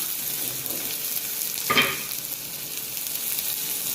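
Onion frying in hot oil with cumin for egg bhurji at a roadside dhaba kitchen, a steady low sizzle with one brief louder scrape or hiss near the middle, and no one talking.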